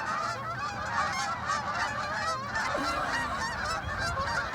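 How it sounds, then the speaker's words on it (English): A flock of geese honks continuously overhead, a layered chorus of nasal calls over steady outdoor background noise. "We'll pause for geese."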